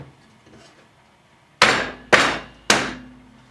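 Hammer striking a Festool Domino pin-only wood joint with no glue during a strength test: three loud, sharp wooden whacks about half a second apart, following a quiet faint tap or two, no talk.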